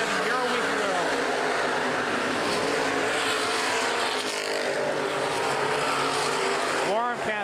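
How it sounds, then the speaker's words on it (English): Open-wheel modified race cars roar around a short oval speedway during a night feature race, with a dense, continuous engine drone, repeated pass-by swells and a commentator talking over the racket. "Good racing up front here tonight in the modifieds."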